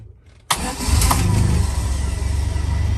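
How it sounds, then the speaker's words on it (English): A moment of quiet, then the engine of a 1971 Land Rover Lightweight cranks and catches, settling into a steady, rumbling idle close by. "quick video of start up and idling on this Land Rover Lightweight"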